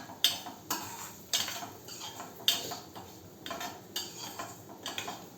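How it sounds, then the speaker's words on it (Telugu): Bombay rava semolina being roasted in ghee in a pan, heard as a series of sharp metallic scrapes and clinks of a spoon against the pan at irregular intervals, close and fairly quiet, with no talking. "ఇప్పుడు ఇందులో ఈ బొంబాయి రవ్వ వేసేసి వేయించేసుకుందాం."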